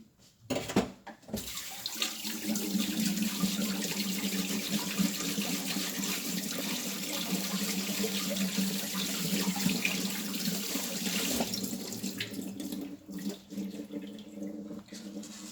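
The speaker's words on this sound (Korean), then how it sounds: "석이버섯이 됐네요. 제가 물에다 이렇게 됐는데 씻어 볼게요." A kitchen tap runs steadily while rock tripe mushrooms, earlier scrubbed with sea salt, are rinsed under it, with close splashing and a few clattering handling sounds at the start and near the end.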